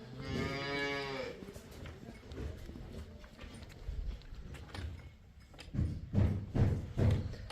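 Cattle mooing loudly nearby at a farm, a long low call followed by shuffling and hoof sounds, then more deep bellows toward the end.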